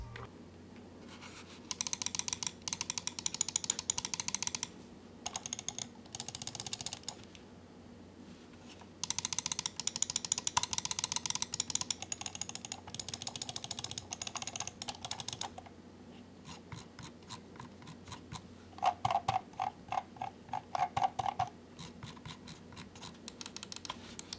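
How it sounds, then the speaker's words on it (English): A Logitech G Pro Wireless gaming mouse scroll wheel is spun in bursts, giving rapid, fine ratcheting clicks in close-up, separated by short pauses, with no talking. "The scroll wheel is also buttery smooth and quieter than my SteelSeries mouse set"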